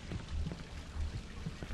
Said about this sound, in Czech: Co tu dělá voda?